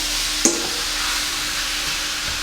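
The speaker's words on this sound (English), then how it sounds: "we're just gonna give it a sear. Yeah. Yeah, that sizzle." Stew beef sears in a pot for a Jamaican stew, giving a steady loud hiss of sizzling with one brief clank near the start and no talking.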